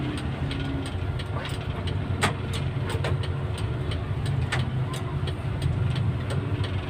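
Congested street traffic with jeepneys and cars idling and creeping along, a steady close engine rumble with scattered sharp clicks and clatter throughout, no talk.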